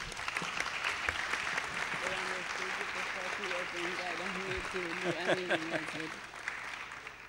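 An audience at a conference on prisoners' rights applauds after a talk, sustained steady clapping filling the room while someone speaks over it.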